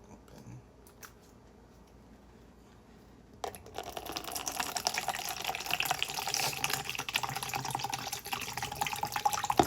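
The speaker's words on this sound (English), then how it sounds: "But I pour this here in the mixed bottle." Bowel prep liquid pours into a mixing bottle in a steady, close, splashing stream that starts abruptly after a few faint clicks and continues to the end.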